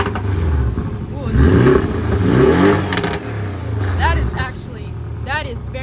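2022 Porsche 718 Boxster S engine revving in sport mode, several rising and falling revs with exhaust pops, close by, someone talking over and between them.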